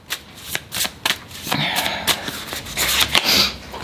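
Tarot cards being shuffled by hand during a Virgo tarot reading: a close run of quick papery riffles and flicks, in short uneven bursts with no voice over them.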